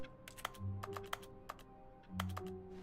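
Mouse clicks in The Stanley Parable: Ultra Deluxe, sounding as a quick series of sharp, close clicks that clatter like keyboard typing, in irregular bursts over a faint low hum.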